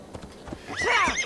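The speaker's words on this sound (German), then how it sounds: "Wo ist mein Pferdchen?" A horse in the video game Assassin's Creed Valhalla gives a loud, close whinny that rises and falls over about a second, after a few soft hoof thuds at the start.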